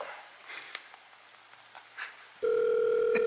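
A telephone dial tone switches on abruptly and holds steady to the end, loud and close, after a quiet stretch of faint clicks and handling noise before a prank call.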